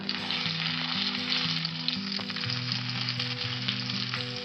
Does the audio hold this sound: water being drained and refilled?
no